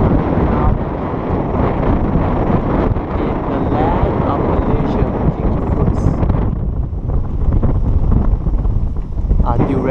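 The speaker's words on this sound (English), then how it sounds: "It's very windy out here." Strong wind on a high viewing platform in Langkawi buffets the microphone with a steady, loud rumble and roar throughout, easing slightly near the end.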